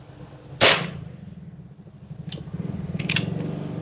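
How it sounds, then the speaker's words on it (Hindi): Nova Vista Cobra PCP air pistol, side-lever cocked, fires one sharp close crack, followed by a low hum and a couple of quieter mechanical clicks. "काफ़ी स्टेबल शॉट्स हमें मिल रहे हैं।"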